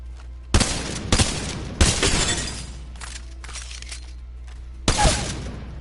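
A shotgun fires in the video game Apex Legends with several sharp, loud, close blasts at uneven intervals, each followed by a short crackling tail, and no talk.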